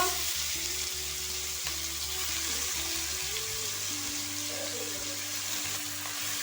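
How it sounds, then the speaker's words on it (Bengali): Boiled pumpkin greens and stalks frying in hot oil in a pan, a steady soft sizzle with faint hiss throughout, no voices. "এবার সিদ্ধ করে রাখা কুমড়ো শাক ও ডাঁটাটা দিয়ে দেব।"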